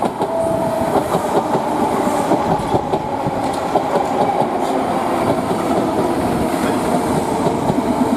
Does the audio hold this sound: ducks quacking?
no